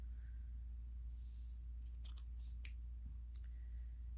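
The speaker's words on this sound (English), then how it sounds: "so you can cut that color." Scissors snip through crochet yarn in a few quick, quiet cuts, close up against a low steady hum in a quiet room.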